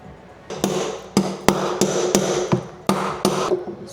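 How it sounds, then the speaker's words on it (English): A new bearing is hammered into the metal tub of a Samsung washing machine during a bearing and tub seal replacement. The blows are loud, close and ringing, roughly eight sharp metallic strikes spaced unevenly with brief rings between them. "When I was hammering it, the sound changed where it was solid"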